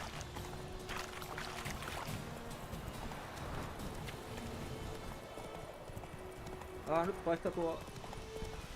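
Roach the horse in The Witcher 3 goes by with a soft, rhythmic clip-clop of hooves under steady background noise, while someone talks quietly and a short whinny-like call sounds near the end.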